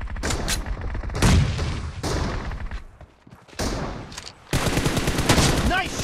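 Heavy automatic gunfire in PUBG Mobile team deathmatch, loud rattling machine-gun bursts with a brief lull in the middle before a sustained close volley resumes.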